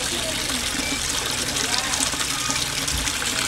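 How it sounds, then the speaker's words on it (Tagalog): A submersible water pump feeding a waterfall in a koi pond makes a constant, close rush of splashing water, with someone talking over it. "yung nagwa-waterfalls guys, yan ang tinatawag na submersible pump or on the other term or on the other word, tinatawag din yan na water pump"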